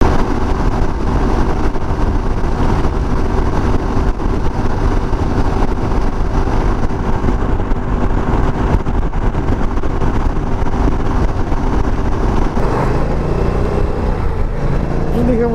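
Dark Side C650 GT motorcycle fitted with a car tyre cruising steadily on a highway, a continuous loud engine drone with heavy wind rush throughout, and a brief shift in tone near the end.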